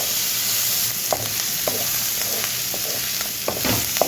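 Onions sizzle steadily in a pan with a dried red chilli, frying for a colocasia and okra pulusu, while a spoon makes scattered stirring clicks and scrapes over the constant hiss.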